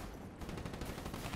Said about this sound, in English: Gunshots everywhere.